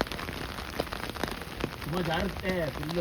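Steady rain patters on a surface close by, a dense hiss of drops, with a voice speaking over it toward the end.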